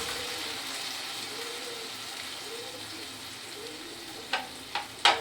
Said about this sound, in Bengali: মশলাটা খুব ভালো করে নেড়ে চেড়ে কষিয়ে নিতে হবে